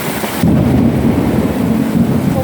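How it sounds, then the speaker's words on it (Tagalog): Heavy rain pours with a loud rumble of thunder setting in after a brief quieter moment, a dense, steady roar with no voices. "Malakas ang ulan"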